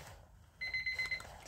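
A timer alarm starts partway through and beeps in a fast repeating pattern, thin and fairly quiet over a soft background hiss, continuing to the end.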